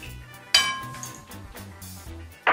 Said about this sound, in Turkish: Çırpmaya devam ediyorum.